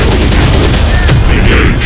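Video game gunfire in Terminator Dark Fate Defiance crackles as a loud, continuous barrage of rapid shots, dense and close, with a faint synthetic voice mixed in.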